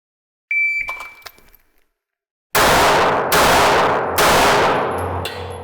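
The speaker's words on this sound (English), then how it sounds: "For the third string, it's 3 shots to the chest at the 10-yard target." Three loud 9mm handgun shots fired at a 10-yard target, each a sharp blast with a long ringing decay, spaced under a second apart after a brief metallic clatter, with no talking.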